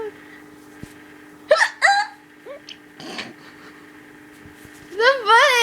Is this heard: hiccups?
yes